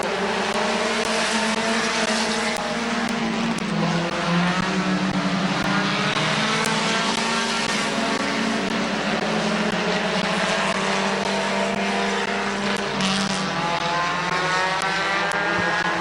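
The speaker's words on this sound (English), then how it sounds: "Flag in Jonathan Smith's hands, which means AJ Andrews has one more lap to go." Race cars lap at Midvale Speedway, a dense continuous roar of several engines with rising and falling pitch sweeps as cars pass, loud and unbroken throughout, no voices clear above it.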